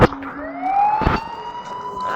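A police siren in a video game rises into a loud, sustained wail that holds steady over about two seconds, with a brief thud near its start.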